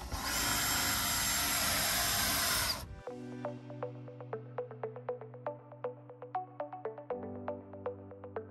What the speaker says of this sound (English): you want your drill in the highest speed if you want that drill bit moving fast